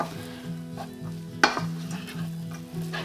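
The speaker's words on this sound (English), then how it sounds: "all the onions go in, just stirring them round" Onions stirred in a pan, sizzling steadily in oil and butter for shepherd's pie, with a sharper scrape or clack of the spoon midway. The sound is close and continuous, with no talking.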